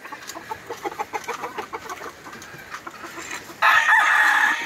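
A rooster at a cockfighting pit clucks repeatedly, then breaks into a loud, close crow that holds to the end, with faint background murmur.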